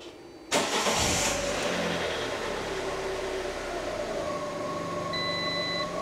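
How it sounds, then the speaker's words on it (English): A 2012 Ford Ka 1.2 petrol engine cranks and catches abruptly, then settles into a steady, fairly close idle, while a dashboard warning chime beeps briefly near the end. "All I'm going to do is start it up and just let it idle for a few seconds."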